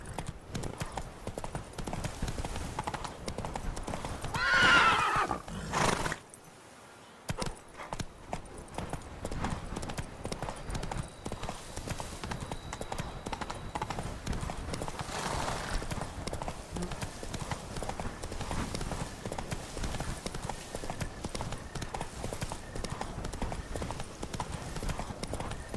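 Roach, the horse in The Witcher 3, gallops with steady rapid hoofbeats that run almost the whole time, broken by a brief drop-out near the start and a faint whinny or voice just before it.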